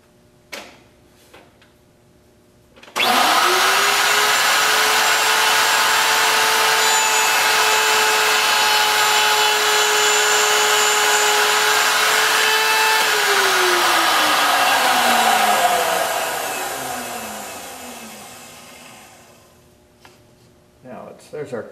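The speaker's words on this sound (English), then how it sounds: "Okay, let's make the router cut here." A router fitted with a fingernail bit cuts a mortise into a bamboo fly rod reel seat, spinning up to a loud, steady whine, holding for about ten seconds, then winding down slowly as the motor coasts to a stop.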